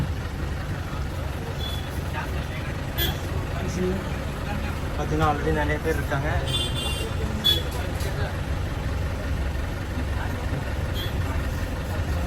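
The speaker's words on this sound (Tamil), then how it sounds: "இப்போ இந்த பஸ்ஸில் தான் நம்ம வந்து போகிறோம்" A Goa government bus running from Calangute to Panjim keeps up a steady engine rumble and road noise inside the cabin, with a few light rattles, while someone speaks over it.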